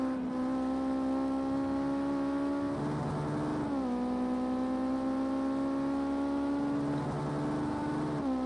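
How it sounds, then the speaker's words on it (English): A race car engine holds a steady, loud note in a sim racing game at Donington Park National, rising and dipping slightly as it shifts and revs through corners, with no talk over it. "I was just listening to the engine note there, David, as Cameron made his way into the old"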